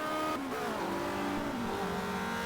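A Ferrari touring car races on the Nordschleife in a 1990 WTCC race, its engine roaring loud and close with shifting revs as it passes and pulls away.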